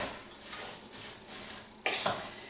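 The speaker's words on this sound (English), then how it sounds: "Give my apples a stir." A spoon stirs apples in a cooking pot, giving soft scraping passes and a sharper clank of metal against the pot near the end. The sounds are fairly quiet.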